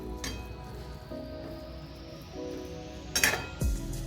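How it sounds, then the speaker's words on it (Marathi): Fenugreek greens and moong dal being stirred in a pan, heard as soft close scraping and occasional light clinks of a utensil against the metal, with a louder clatter near the end. "ते थोडं हलवून घेणार आहोत।"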